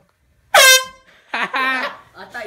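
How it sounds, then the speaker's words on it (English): A loud handheld air horn blast is followed by shouting voices indoors, with close, bright, harsh tones that cut off abruptly. "we're gonna try to scare Blaze real quick with this air horn"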